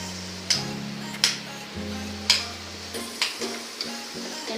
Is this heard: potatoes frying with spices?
yes